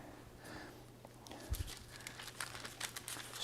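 Parchment paper handled on a kitchen counter while preparing savory galettes, giving soft crinkling and rustling with a couple of brief louder bumps near the middle, faint and close.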